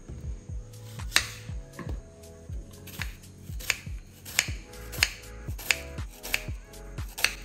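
Food being chopped for a chicken biryani, a steady series of sharp knife strikes on a board at a regular rhythm, close and fairly quiet, with music playing underneath.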